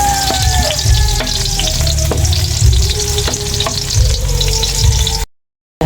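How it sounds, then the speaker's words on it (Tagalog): Vegetables, including sayote and carrots, sauté in a hot pan for lomi, a loud, steady sizzle with scraping stir strokes throughout, ending abruptly in silence. "Tayo po ay gigisa na."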